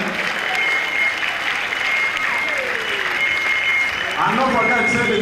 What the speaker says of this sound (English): Please put your hands together for her.